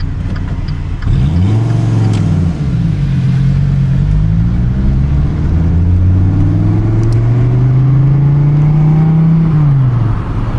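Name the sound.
sports car engine revving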